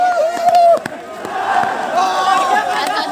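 A crowd of cricket fans at NIT Jalandhar, a dense mass of shouting and chanting voices, loud and close, with raised cries rising and falling throughout.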